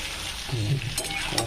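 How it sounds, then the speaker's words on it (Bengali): Flat beans fry over low heat in a pan and are stirred, giving a continuous close sizzle with soft scraping and shuffling as they are turned. No one talks. "আমি কিন্তু সিমগুলো ভাজছি"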